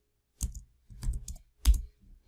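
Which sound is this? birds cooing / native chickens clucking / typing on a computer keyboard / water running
typing on a computer keyboard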